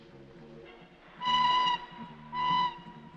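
A steam locomotive sounds its whistle as it arrives at a station, two loud, tonal blasts with a short gap between them, rising out of a quiet background with no talk.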